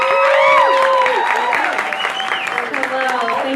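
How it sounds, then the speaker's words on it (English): An audience at a local talent show applauds and cheers for a contestant, a loud, sustained burst of clapping mixed with whoops and shouting voices. "Let's have a big round of applause for contestant number 9"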